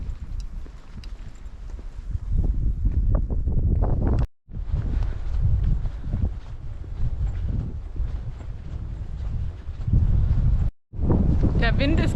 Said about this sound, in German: Der Wind ist ganz schön frisch,